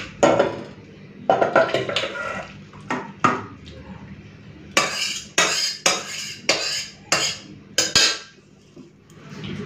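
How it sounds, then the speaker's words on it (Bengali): Egg curry with potatoes being poured and scraped out of a pan, a run of sharp metal clatters and spoon scrapes coming in irregular bursts, loud and close, with no talking. "এই যে আলু দিয়ে ডিমের ঝোল রেডি, ঢেলে নেব।"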